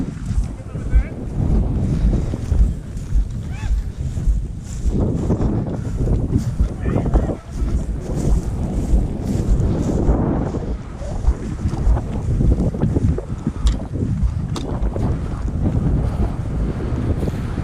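Strong wind blowing outdoors at a Mid-Missouri airsoft field, a loud, continuous buffeting roar across the microphone with gusty surges, and people talking underneath.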